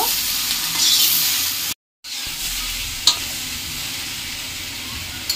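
Fish head sizzling in a pan with turmeric and salt while being stirred, a loud hissing fry with scraping, broken by a brief total silence, then resuming with a sharp utensil knock.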